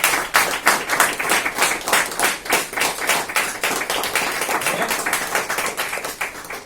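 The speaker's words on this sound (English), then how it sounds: "we'll start with a round of applause for Alpha Corporation for giving us their venue" Audience at a GST meeting applauds Alpha Corporation for lending the venue: steady, dense clapping from a room of people, continuous and fairly loud for the whole stretch with no voices on top.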